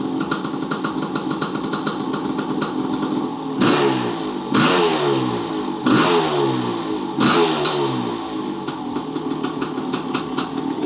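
A Kawasaki KX500 motorcycle engine runs close and loud, a rough two-stroke idle punctuated by four sharp revs that each climb and fall back, with no one talking.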